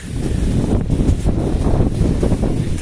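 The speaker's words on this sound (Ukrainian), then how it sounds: "Вітерець досить нормальний" Wind gusts buffet the microphone on the snowy summit of Perekop mountain, 1213 m high. The roar is loud, constant and low-pitched, with irregular surges and no voices.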